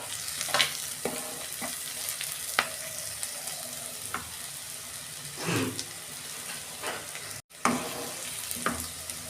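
Onion fries in hot oil with ginger-garlic paste while being stirred in a pan for a fish curry, giving a soft continuous sizzle broken by repeated scraping stir strokes and a brief clatter, with no talking.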